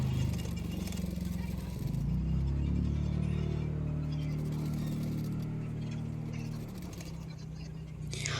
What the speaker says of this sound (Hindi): अभी मैं फ़िटिंग के लिए सिलाई कर दूँगी